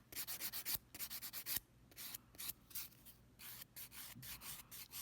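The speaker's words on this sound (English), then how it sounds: "Using the edge of that file, getting right down in that lateral fold area." A nail file rubs along the edge of acrylic nails into the side fold. The strokes are quick, rhythmic and rasping, faint and close, with brief pauses between bursts and no speech.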